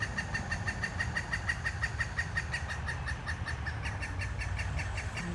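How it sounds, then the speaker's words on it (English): A pileated woodpecker calls from a tree, a rapid run of repeated loud notes that goes on through the whole stretch over a soft outdoor background. "are a couple of absolutely enormous woodpeckers in this tree"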